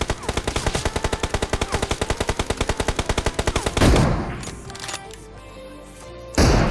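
Sustained automatic gunfire in a shooter video game, a rapid, loud, evenly spaced burst of shots lasting several seconds, then a heavy boom and a quieter tail ending in another blast.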